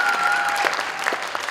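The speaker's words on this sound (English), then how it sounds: "A little bit louder applause would help" Louder audience applause fills a hall at a school presentation, dense and continuous clapping from many people, with a faint voice or tone briefly heard beneath it.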